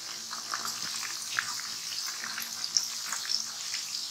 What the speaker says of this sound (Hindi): अब हमने इसको दूसरी साइड से भी अच्छा सा फ्राई करना है।